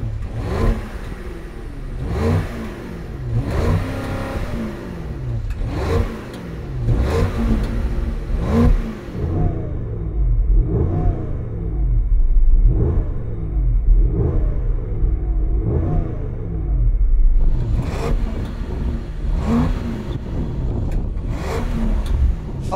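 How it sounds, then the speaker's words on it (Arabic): A 2023 Range Rover Sport's V8 engine revving repeatedly through four exhaust outlets, throaty roars rising and falling in a steady series of bursts, loud and close. "فنسمع صوت الثمان سلندر مع بعض"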